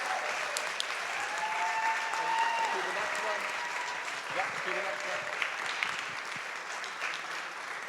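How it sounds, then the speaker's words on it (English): Audience applause at a community event celebrating the total solar eclipse in Burlington, a full, sustained round of clapping with scattered cheers and a few voices mixed in, swelling slightly before easing off. "Time for a bow, a round of applause."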